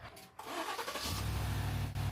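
An old Mustang GT, long neglected on a farm, cranks and fires up with help from a Wolfbox jump starter. A brief crank is followed by the engine catching into a rough, close running rumble.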